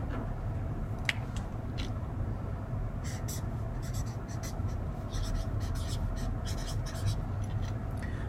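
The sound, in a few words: writing down variables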